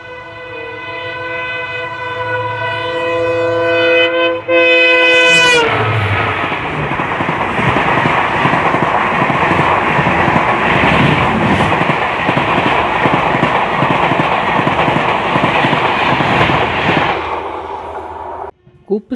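A Humsafar Express train blows a long, loud horn. It then runs on the rails with a dense, continuous rumble and rattle that stays close and steady for most of the stretch before briefly dropping away near the end.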